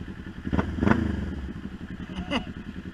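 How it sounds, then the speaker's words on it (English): Motorcycle engine revving in short bursts, loud and close, with some clatter and no talking. "When I'm bored, I just hop on the bike, go putt around."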